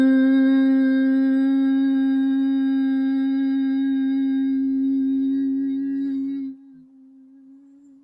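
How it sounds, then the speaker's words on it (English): A steady, closed-mouth humming exhale from yoga bee breath, one sustained voiced tone heard close and clear for about six seconds before it drops and fades into a faint lingering hum. "exhale with the mouth closed, making a humming sound"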